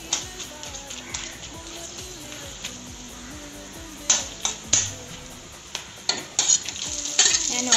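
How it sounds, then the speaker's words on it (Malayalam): Chopped onion fries in a pan for chicken dum biryani, giving a continuous sizzle broken by repeated sharp scrapes and clanks of a spatula stirring, louder toward the end. "ഒപ്പം തന്നെ ഒരു സവോള അരിഞ്ഞതും കൂടെ ഇട്ട് ഫ്രൈ ചെയ്തെടുക്കാം."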